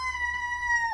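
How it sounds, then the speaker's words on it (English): A rooster crows once, a loud, sustained, clear call held steady before breaking off at the end, with no talk. "Pardon the roosters, they're loud."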